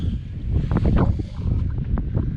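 Steady, loud wind buffets the microphone with a rumbling low roar throughout, at a tent camp in Torres del Paine, Patagonia, with brief faint sounds of activity in the background.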